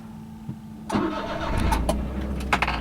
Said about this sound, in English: turn the key clockwise to start the engine